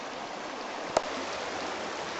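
Steady broadband rush of the Bear River flowing continuously and evenly, with a single brief click or splash near the middle.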